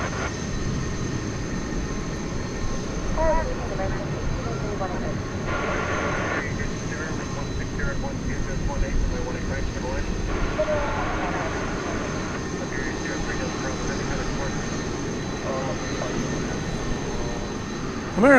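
An Airbus A330 departs DFW Airport at night for Spain, a continuous distant jet rumble with a faint high engine whine holding steady throughout, occasionally shifting in texture, and no clear voices.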